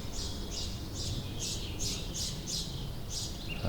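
A single bird calls in a backyard garden, about eight short, bright, repeated squawking notes in a steady rhythm, recorded through a microphone in an IKEA salad bowl over a constant low outdoor rumble.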